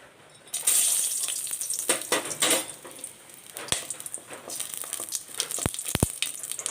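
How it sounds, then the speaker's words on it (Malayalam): Cardamom, cinnamon and cloves hit hot coconut oil in a pan with a bright, close sizzle that flares up, then crackles on with scattered sharp pops and clinks. "ഒരു പാൻ വെച്ച് ചൂടാക്കി അതിൽ ഒരു ടേബിൾ സ്പൂൺ വെളിച്ചെണ്ണ ഒഴിച്ച് ചൂടായിട്ടുണ്ട് അതിലേക്ക് ഒരു മൂന്ന് ഏലക്ക ഒരു ചെറിയ കഷ്ണം പട്ട"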